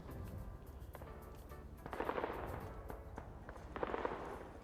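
Mortar fire in a large multiplayer military video game, two bursts of distant explosive booms and crackling rounds, fairly faint, set against a low rumbling battlefield background.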